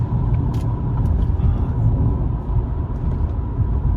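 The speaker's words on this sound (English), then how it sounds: "Car runs and drives absolutely fantastic." A 2002 Mercedes-Benz SL500 on the move gives a steady, close, low engine and road rumble inside the cabin, an even drone throughout with faint ticks on top and no speech.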